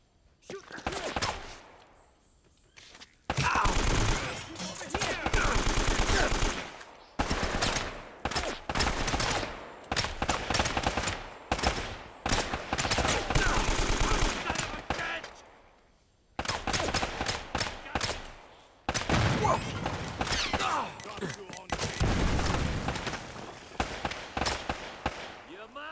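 Bursts of gunfire in the video game Uncharted: The Nathan Drake Collection, long loud volleys and rapid automatic fire broken by short pauses, with shouted game dialogue among the shots.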